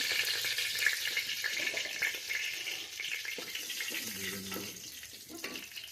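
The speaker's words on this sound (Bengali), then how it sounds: "তেল গরম হয়ে গেছে। এবার আমি এলাচ, দারচিনি, শুকনো লঙ্কা, তেজপাতা দিলাম।" Cardamom, cinnamon, dried chilli and bay leaf sizzle in hot oil inside a pressure cooker for mutton curry, a steady crackling hiss with a few brief spits and bubbling bursts, fairly close and continuous.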